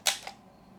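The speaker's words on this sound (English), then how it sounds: "it's going to be a fast shutter. You can hear it here." A Yashica Electro 35 GSN rangefinder camera fires a fast shutter: a sharp, close mechanical click followed a fraction of a second later by a softer second click, then quiet.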